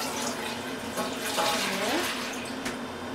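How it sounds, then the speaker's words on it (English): Milk pours into a pot to start chanar payesh, an Indian milk-solid pudding: a soft, steady liquid stream with gentle gurgling, close but fairly quiet in a home kitchen. "First, I'm going to put this milk."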